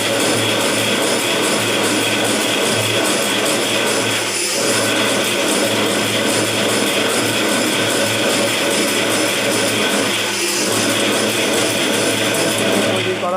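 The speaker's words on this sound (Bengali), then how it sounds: "এটা হাই স্পিড মেশিন। এক্ষুনি মেশিনটা চালাবো, দেখাচ্ছি। দেখুন দেখুন মেশিন চলছে।" A high-speed agarbatti (incense stick) making machine runs loud and continuous, a dense mechanical rattle and whirr with a steady rapid rhythm and no pauses, close by with no voices heard over it.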